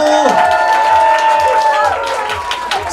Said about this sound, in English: Ladies, please, big round of applause for